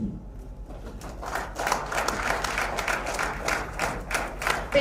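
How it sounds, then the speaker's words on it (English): A conference crowd at Nigeria Fintech Week 2025 claps steadily in warm, sustained applause that fills the room at moderate loudness. Dense, overlapping hand claps continue throughout with no pauses. "Another round of applause"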